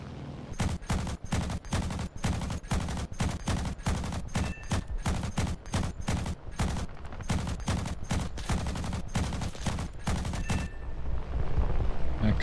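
High-tier propeller fighter aircraft machine guns in a combat flight video game, long rapid bursts of gunfire in a fast repeating rhythm, loud and close, with short pauses between volleys and an engine drone underneath.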